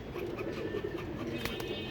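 Pigeons cooing close by, with soft repeated low coos layered over a dense, continuous background murmur.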